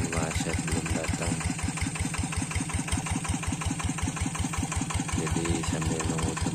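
A single engine idles steadily while warming up before a trip along a narrow hillside road to rice fields, its rhythmic chugging loud, close and unbroken throughout, with no talk.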